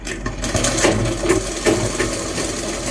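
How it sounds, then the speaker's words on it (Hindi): Sewing machine running a quarter-inch seam on a lined kurta sleeve, a close, continuous mechanical whir lasting a few seconds. "इसमें भी हम 1/4 का यहाँ से मार्जिन लेके एक और सिलाई लगा लेंगे।"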